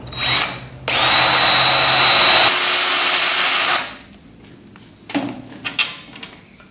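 A power drill with a new bit bores through metal on a hoist ram: a short burst, then about three seconds of loud, steady, high-pitched whine that stops, followed by a few scattered clanks and handling knocks.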